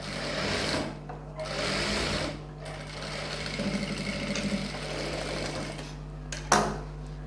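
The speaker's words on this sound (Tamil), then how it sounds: "இப்போ நான் இப்போ ஸ்டிச் பண்ணிட்டேன், இன்னொரு ஸ்டிச் போட்டுக்கிறேன்." A sewing machine stitches pattu pavadai fabric in close, loud bursts of rapid mechanical whirring, with brief pauses between runs and a sharp clack near the end.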